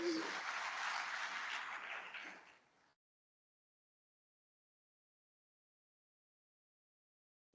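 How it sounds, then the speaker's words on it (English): Audience applause for a guest speaker at a distinguished speaker series event, a steady burst of clapping filling the room for about three seconds and then cutting off into silence. "Let's start with a big round of applause for Gopi."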